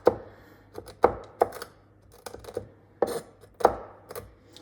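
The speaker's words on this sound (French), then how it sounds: "Donc, je concasse grossièrement les amandes et les pignons de pain." Almonds and pine nuts are coarsely chopped with a knife on a board, giving a handful of sharp, irregular thuds spaced by brief pauses, close and clear with a quiet background.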